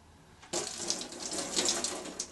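Leftover water pours from a container to rinse dishes, starting abruptly after a quiet moment and running as a close, steady splashing stream that fluctuates slightly, with no speech.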